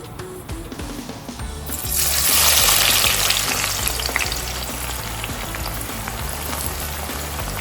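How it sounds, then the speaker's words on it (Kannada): Onions dropped into hot oil for mutton biryani, the sizzle surging loudly after a couple of seconds, then settling into a steady, close crackling fry with occasional stirring. "ನಾನು ಈಗ ನೀರುಳ್ಳಿ ಫ್ರೈ ಮಾಡ್ತಾ ಇದ್ದೇನೆ, ಮ್ಯಾರಿನೇಟಿಗೆ ಮತ್ತು ಗಾರ್ನಿಷಿಗೆ"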